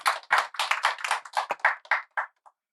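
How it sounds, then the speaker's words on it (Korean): Hand claps at an academic conference session in Korea, a dozen or so distinct sharp claps in an uneven rhythm, thinning out and stopping after a few seconds, close and clear with no talk. "패널 분들을 박수로 맞아주시기 바랍니다"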